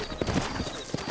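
Horse hooves clip-clopping in Red Dead Redemption, set in New Orleans: a few close, steady hoof clops over a dense background bed, with no talk.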